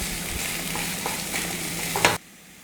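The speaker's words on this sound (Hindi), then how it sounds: "इसे हम मसालों के साथ अच्छे से मिक्स कर लेंगे" Mashed boiled potatoes being mixed with spices in a pan for a semolina taco stuffing, a close continuous scraping and stirring over a soft sizzle, ending abruptly in near silence.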